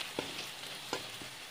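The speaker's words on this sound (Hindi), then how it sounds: "इसी में हम हल्दी और मिर्ची का पाउडर भी देकर इसे अच्छी तरह से भूनेंगे।" Turmeric and chili powder frying in a pan for a fish head and banana flower dish, a faint steady sizzle with a couple of soft stirring knocks, close and quiet with no talk.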